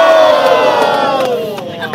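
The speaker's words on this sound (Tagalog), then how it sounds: "mag-ingay para kay Topi" Crowd at a rap battle cheering and shouting loudly, a dense burst of voices that starts strong and gradually tapers off over two seconds.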